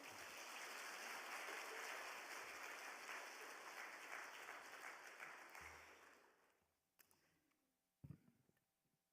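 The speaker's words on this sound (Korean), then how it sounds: "주인자 목사님 나오실 때 큰 박수로 환영해 주십시오." A church congregation at a Wednesday service gives a pastor a warm round of applause, a loud, full wash of clapping that holds steady, then tapers off over a couple of seconds, leaving a few scattered knocks and rustles.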